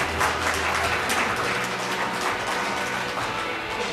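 Audience applause for a party supreme council member at a Daegu city chapter political gathering, a dense, even wash of clapping filling the hall without a break.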